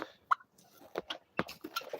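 Several short, rapid gobbling calls from a turkey burst out irregularly, fairly close, with brief quiet gaps between them, outdoors in cold Alaskan weather.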